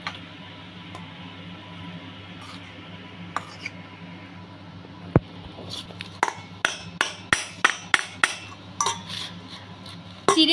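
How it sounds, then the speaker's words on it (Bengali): Soaked flattened rice (chira) is tipped from one kitchen bowl into another, giving a run of sharp clinks and taps of bowl and spoon in the second half over a low steady background hum. "ভিজানো চিড়েটা এবার অন্য একটা পাত্রে ঢেলে নিলাম।"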